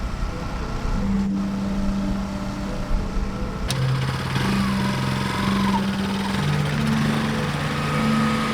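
A motorcycle engine runs steadily nearby with a low, droning hum that shifts pitch slightly as it moves, alone without talk.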